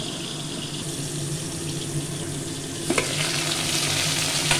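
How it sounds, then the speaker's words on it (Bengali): Vegetables frying in a pan for a simple vegetarian curry, a loud steady sizzle with a few stirring knocks near the middle, close up and with no voices. "কয়েকবার নাড়াচাড়া করে দিয়েছি।"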